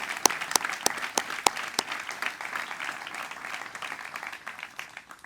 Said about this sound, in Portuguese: a minha gratidão e a minha salva de palmas sincera